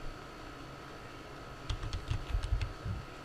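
Quick burst of typing on a computer keyboard while a command is entered, about a dozen light, close key clicks in a short run after a quiet pause.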